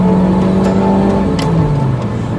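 Ferrari 355 engine revving close by, a loud, sustained high-pitched mechanical whine and roar whose pitch slowly drops across a couple of seconds.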